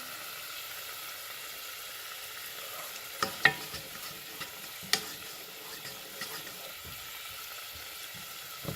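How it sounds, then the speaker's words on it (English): Tomato sauce sizzles in a pan for tomato basil soup, a low steady hiss punctuated by sharp clacks and scrapes of stirring, near and fairly quiet. "let's get some of the sauce in there"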